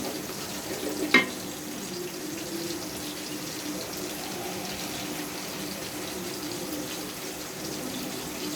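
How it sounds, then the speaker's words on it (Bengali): Spice paste for a fish and jackfruit-seed curry frying in oil in a pan, a steady close sizzle throughout, broken once early by a sharp click. "মশলাটা এখন একটু কষিয়ে নেব।"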